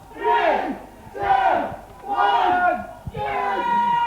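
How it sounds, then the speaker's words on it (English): A large South African crowd at a rugby league match chants in unison, four long drawn-out shouted calls in a steady rhythm, counting down and echoing across a stadium. "as you can hear the South African crowd counting down now."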